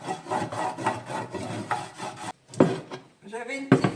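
A small brush scrubs the grooves of a cast iron plate in a sink in quick, rhythmic rasping strokes, close and brisk, broken by a brief pause before a few more strokes.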